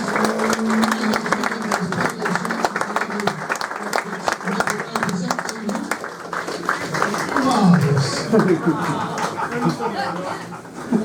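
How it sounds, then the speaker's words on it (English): A crowd at a racing owners club media day gives Mark a round of applause, scattered clapping mixed with chuckles and laughter, with people talking and cheering over it. "Round of applause for Mark, please, ladies and gentlemen."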